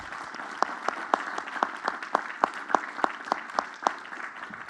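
An audience in an auditorium claps for a colleague. Steady, moderately quiet applause from a modest group, with distinct individual claps standing out over the whole span and no speech on top.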